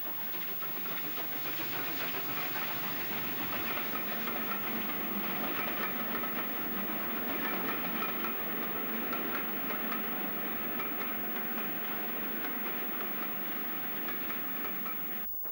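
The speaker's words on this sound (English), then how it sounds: "Here the train is approaching Porthcawl in the late 1950s." A late-1950s excursion train approaching Porthcawl rumbles steadily with a broad hiss and rhythmic clatter of wheels on rails, sustained and fairly loud throughout, with no voices.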